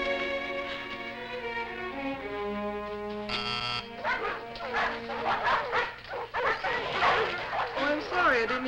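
A dog barks and yips in an indoor setting, with short bursts standing out over a music score near the start, then people talking over it in the second half.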